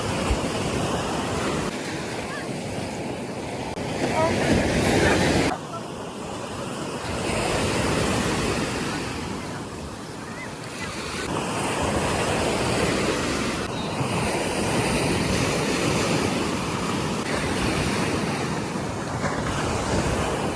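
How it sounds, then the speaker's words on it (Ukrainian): Sea waves wash onto a sandy beach at midday, loud and close, surging and receding in slow swells over twenty seconds with wind rumbling across the microphone and no voices. "Так як я і думала, що сьогодні хвилі."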